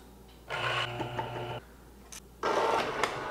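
Espresso grinders, a DF64 with SSP MP burrs and a Forte with Ditting burrs, purging a few coffee beans: two short, close whirring bursts with brief crunching, separated by a quiet pause.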